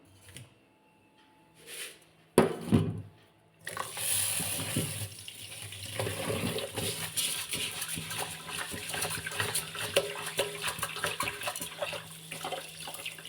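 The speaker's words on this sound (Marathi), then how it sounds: "दोन तीन पाण्यामध्ये धुवून काढूयात" Rice rinsed under a running tap, a few clinks and knocks at first, then a steady stream of water splashing into the grains for the rest of the stretch, close by and without speech.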